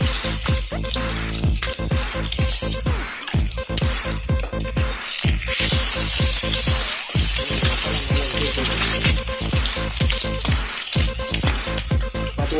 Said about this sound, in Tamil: ப்ரௌன் கலராக வர வரைக்கும் அப்படியே ஃப்ரை பண்ணுங்கள்